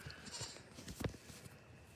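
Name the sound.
goat bleating on a goat farm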